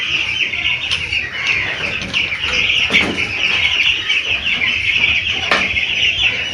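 Chickens cluck and chirp continuously inside a poultry house where a flock of growing broiler birds is kept awaiting Newcastle vaccination, a dense, steady chorus close by with no talking.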